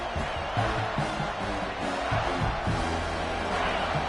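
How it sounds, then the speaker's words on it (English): A College Football 26 stadium crowd roars in a continuous, dense wash of cheering and shouting, loud and sustained, with a commentator's voice faintly underneath. "This crowd knows this defense needs them right now."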